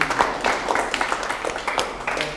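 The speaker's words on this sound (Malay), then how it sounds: "berikan tepukan juga untuk Fatimah punya kumpulan" Classroom applause for a student group, a steady patter of many hands clapping close by for a couple of seconds with slight swells, no voices on top.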